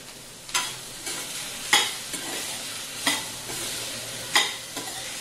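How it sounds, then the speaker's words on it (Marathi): Peas for a Marathi potato and pea bhaji are stirred in hot oil, a soft continuous sizzle broken by five evenly spaced scraping stirs of a spatula against the pan. "मटार टाकून ते पण तेलावर छान आपण परतून घेऊया।"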